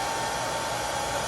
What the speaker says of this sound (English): As I dry, just hold it nice and close, the dryer down